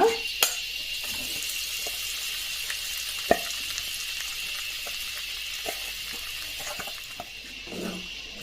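Powdered beaten rice frying in oil with curry leaves, stirred in a pan: a steady soft sizzle with occasional scraping clicks and taps from the spoon, close and alone, no voices.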